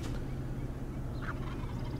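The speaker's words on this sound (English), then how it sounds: "there was birds gobbling over here" A wild turkey gobbles once from the roost, distant and faint, a short rattling call rising over steady low rumbling background noise.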